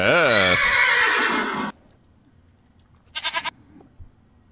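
A horse in the video game Minecraft gives a loud, close, quavering neigh that lasts over a second. A short, pulsing snort or whinny follows a moment later amid quiet background sound.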